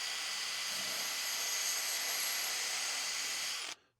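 A power drill pre-drilling a screw hole into a wooden frame piece at an off-grid homestead, one steady loud whine running continuously before cutting off abruptly near the end.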